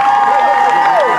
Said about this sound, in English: Let's get a big round of applause for Mr. Moore.